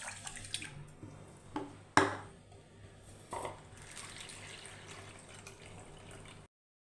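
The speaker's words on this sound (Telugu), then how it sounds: "1 కప్ బియ్యం వేసుకొని, 1/2 కప్ పెసరపప్పు వేసుకొని, వీటిని ఒకసారి శుభ్రంగా వాష్ చేసుకొని" Rice and moong dal being rinsed in water in a pressure cooker pot, with soft sloshing and splashing, a few louder splashes and clinks in the first half, then quieter trickling water, near and fairly faint.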